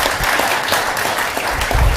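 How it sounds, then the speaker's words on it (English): Applause at a city council meeting, a close, dense round of clapping from the room that carries on evenly for a couple of seconds, with some low rumble near the end. "round of applause for them"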